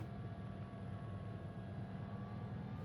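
Sikorsky S-76 helicopter hover taxiing in Microsoft Flight Simulator 2024, a steady, close rotor and turbine drone with a constant low rumble and a faint high whine, heard alone.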